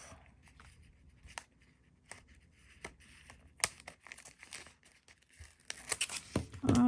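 Scissors cut through origami paper for a simple folded paper dress, making faint, sparse snips and paper crinkles close by, then a busier flurry of rustling and cutting near the end.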